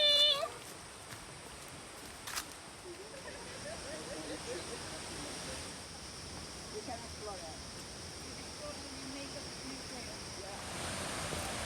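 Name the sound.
waterfall on a hike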